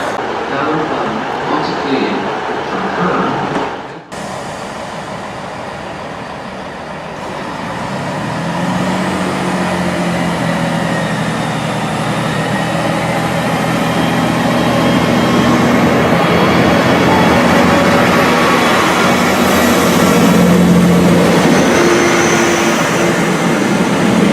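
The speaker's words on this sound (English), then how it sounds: "I will film the train arriving into Telford Central" A train pulls into Telford Central station, a loud, steady rumble that rises and builds over about twenty seconds, with rail noise and a faint tonal whine near the end.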